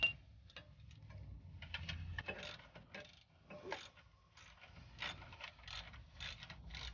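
Big bolts being worked loose from a Cadillac Escalade during crankshaft position sensor repair, a ratcheting wrench clicking in quick repeated bursts close up, with metallic rattles and pauses between runs.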